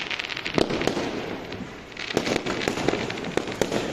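Firecrackers burst during Diwali celebrations in a smoky residential area, with sharp cracks and pops going off irregularly, several loud reports standing out over a continuous crackling backdrop of distant bangs.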